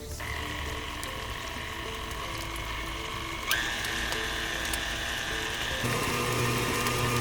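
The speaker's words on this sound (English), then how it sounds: "paddle attachment, I'll mix them together" A stand mixer with a paddle attachment beats softened butter for chocolate chip cookie dough, giving a steady motor whir with a rhythmic mechanical rattle that rises in pitch partway through and stays alone without talk.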